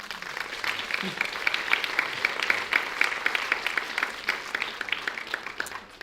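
An audience applauds at a community conversation event, a dense and even patter of clapping hands that holds steady for several seconds before gradually thinning.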